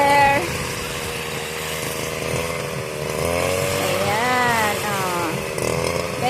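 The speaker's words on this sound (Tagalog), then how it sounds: "Grass cutter." A gas-powered grass cutter runs near a rice field, a loud buzzing two-stroke whine that rises and falls in pitch as it revs, steady and close, with people talking over it.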